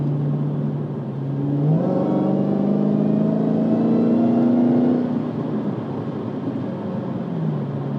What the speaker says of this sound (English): you can easily just drown that out with exhaust and supercharger whine